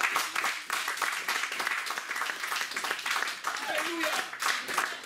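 Church congregation applauding to acclaim the Lord, dense continuous clapping with scattered voices mixed in over a few seconds.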